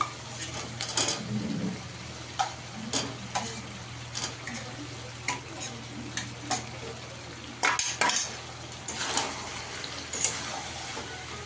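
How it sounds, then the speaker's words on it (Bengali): Fried potatoes get added to chicken for Dak Bungalow curry and stirred in a pan, with sharp clinks and scrapes of a utensil against metal over a low background hum, no voices. "আলুটা দিয়ে ভালো করে মিশিয়ে দেবো।"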